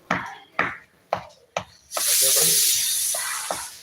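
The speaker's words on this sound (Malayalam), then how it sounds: "ഹാമർ വെച്ചാണ് പൊട്ടിച്ചു കൊടുക്കുന്നത്" Four sharp, evenly spaced knocks of a hammer striking a hard lump of jaggery, followed by a longer gritty crumbling and scraping sound, close and loud.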